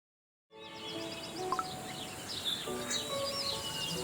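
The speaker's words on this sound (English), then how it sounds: "Hello, little birds. Come for your morning berries again?" Small birds chirp and tweet softly in the CookieRun: Kingdom video game, scattered bright calls over a steady musical background that fades in after a short silence.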